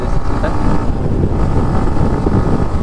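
A new Yamaha MT15 2.0 motorcycle accelerates on an unpaved dirt road, its engine drone running steadily and closely throughout, heavily buried under constant rushing wind noise.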